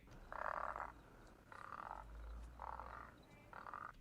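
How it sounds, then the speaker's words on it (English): Frogs croak in four evenly spaced bursts, each a short buzzy chorus, with quiet ambient noise between the calls. "Oh look, we found frogs."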